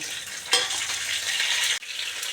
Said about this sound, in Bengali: ফোড়নে দিয়ে দিয়েছি জিরে গোটা জিরে আছে তেজপাতা আছে ছোট এলাচ আছে আর একটা শুকনো লঙ্কা এটা ফোড়নে দিয়ে দেব